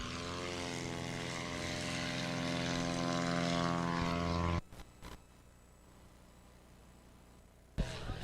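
Cessna 182 propeller airplane performing at an air show, a loud close buzzing engine drone that cuts off abruptly partway through, leaving quieter background noise and a brief thump near the end.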